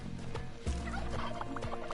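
Turkeys gobble in the video game Spelunky 2, a few short rapid gobbling calls over a busy game soundtrack, fairly close, with no talk.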